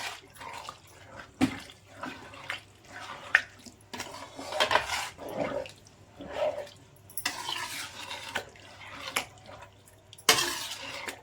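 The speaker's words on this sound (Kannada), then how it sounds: "ಈಗ ನೀಟಾಗಿ ಮಿಕ್ಸ್ ಮಾಡಿಕೊಳ್ಳಿ" A spoon scrapes and clatters against a pan of egg boti curry in uneven bursts, with wet, thick stirring sounds between the knocks.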